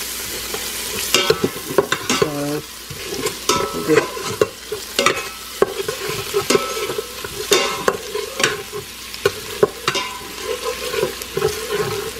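Green pepper flakes and onions fry in a pan with steady sizzling and frequent close stirring scrapes and clacks of a utensil against the pan.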